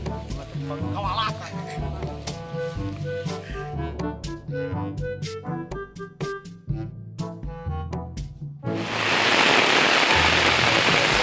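Rain falls in a loud, steady hiss that starts abruptly and fills the last few seconds, following a stretch of music.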